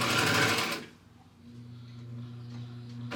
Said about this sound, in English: So then I started sewing,